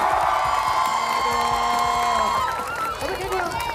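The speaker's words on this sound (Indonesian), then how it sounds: "Tepuk tangan dong buat sekolah kalian nih." Crowd of high school students at SMA 1 Jakarta cheering and clapping for their school, a loud, dense roar of shouts and whoops that fades slightly near the end.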